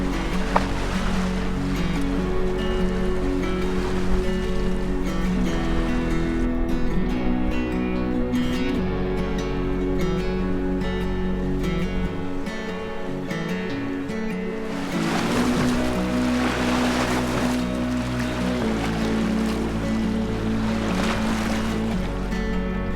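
A canoe rides wavy water on a gusty spring river trip in Temagami, with steady water sloshing and rushing wind gusts that surge louder midway and again near the end, no voices present.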